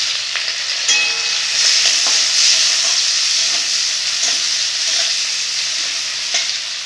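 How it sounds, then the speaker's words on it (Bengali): Chopped onions, with four red chillies, frying in hot oil in a wok, giving a loud, steady sizzle with crackling bursts and occasional stirring clatter throughout. "তেল গরম হয়ে গেছে, এবারে পাকা লঙ্কা 4টে দিয়ে দিব। কেটে রাখা পেঁয়াজ দিয়ে দিব।"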